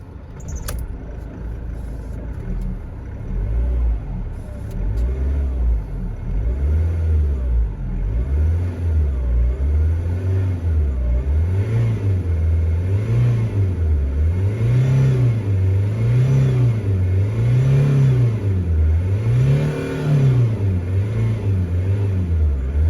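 Diesel car engine cranking and catching, then revved repeatedly in slow, even rising-and-falling swells over a steady idle rumble, close and loud throughout, with no talk.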